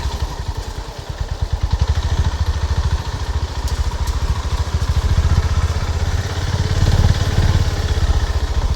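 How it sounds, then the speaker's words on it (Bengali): A motorcycle engine runs close by, its steady low throttling chug continuing throughout during a ride through the Bhabapur forest area in Hooghly, with no talking. "এই বাইকের যে আওয়াজটুকু হচ্ছে"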